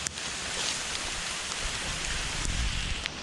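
Steady rain pours down in a dense, even hiss, with a few sharper drops spattering close by.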